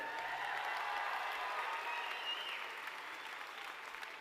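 Steady applause from a crowd at the 2022 BC Summer Games opening ceremonies, moderately distant, a dense patter of clapping that holds throughout and fades slightly toward the end.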